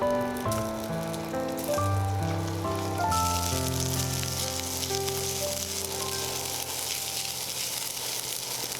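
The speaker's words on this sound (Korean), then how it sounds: "삼겹살 조금 남기고 밥 한 공기를 넣고 볶아주세요." Steady loud sizzling of rice being stir-fried with leftover pork belly on a griddle, continuous frying hiss throughout with tonal background music, no talking.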